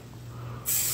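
L'Oreal Weather Control anti-frizz hairspray with 48-hour hold bursts out of an aerosol can as a loud, steady, close hiss that starts abruptly partway through and holds to the end, over a faint background hum.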